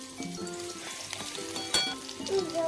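Green chillies and garlic frying in hot oil, a close steady sizzle with faint stirring clinks over a short stretch, no talk.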